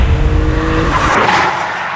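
A Greddy twin-turbo Nissan 350Z driving hard, a loud close engine drone with possible tire squeal that shifts and lightens after about a second, with no talking.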